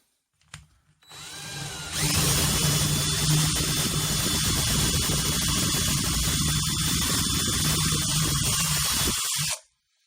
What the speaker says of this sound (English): Mind your ears, because we're going to be drilling.